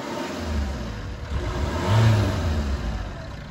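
A car engine on a French street turning over and running, a mid-pitched engine hum that swells into a brief rev around the middle before easing back, fairly close and moderately loud, with no talking.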